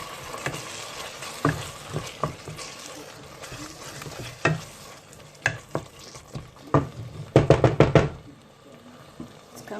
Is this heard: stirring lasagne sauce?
yes